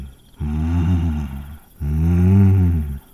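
Two long, deep tiger roars in a forest, each lasting over a second with a short pause between them, loud and close with nothing else heard.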